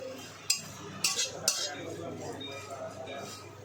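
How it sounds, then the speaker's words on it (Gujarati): Grated coconut is dry roasted in a pan over a low flame, with a few sharp spatula clinks against the pan and soft scraping in between, quiet and close, under faint talking. "તો કોપરાને જો આ રીતે આપણે શેકી લઈશું। થોડું કડક ને એવું થાય ત્યાં સુધી તેને શેકીશું ધીમા તાપ ઉપર એકદમ।"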